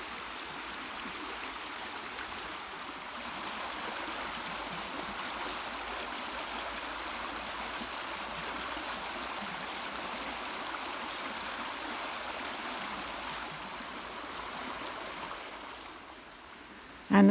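A stream in Wales flows steadily nearby, a constant babbling rush of water that holds evenly for the whole stretch with no voices, ending in a brief knock.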